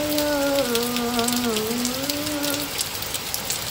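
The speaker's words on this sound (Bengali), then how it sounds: "বৃষ্টিটা কি সুন্দর হচ্ছে" Steady rain falls outside in a constant, soft hiss throughout, while a melodic voice sings or hums over it for the first few seconds.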